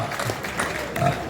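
An audience claps at an outdoor Swadeshi fair poetry recitation in Surajgarh, a dense, steady patter of hands lasting the whole moment, with faint voices mixed in.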